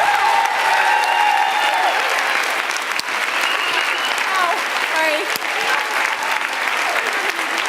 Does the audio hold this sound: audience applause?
yes